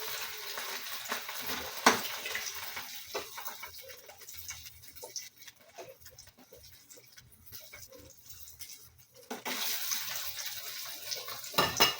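Tikoy coated in egg frying in a pan over a strong flame, a faint, uneven sizzle with occasional scraping and stirring, louder at the start and again near the end.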